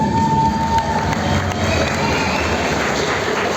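A crowd at a sports club event in Yakutsk claps and cheers as the club's head is invited to speak, a loud, dense roar of clapping and shouts, with some higher children's voices mixed in throughout.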